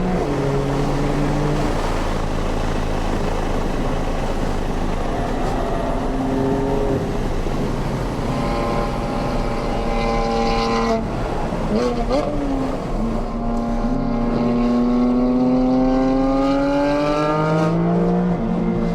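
A Porsche 992 Carrera GTS drives on a race track, its engine droning steadily then climbing through rising revs and gear changes with wind noise, under continuous speech.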